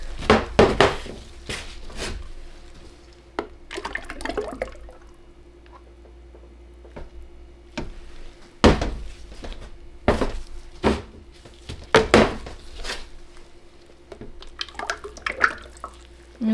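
About two liters of liquid soap batter pour into a container for a grapefruit soap batch, a soft, quiet trickle broken by sharp knocks and clatters of handling, with no talk.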